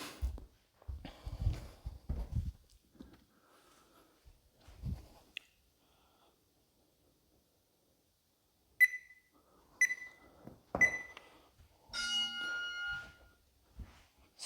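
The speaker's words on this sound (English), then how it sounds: "It's going to beep us in." Sparse electronic timer beeps during a follow-along workout, a few short bright chirps spaced apart and then a longer buzzing tone, over quiet shuffling and movement noises.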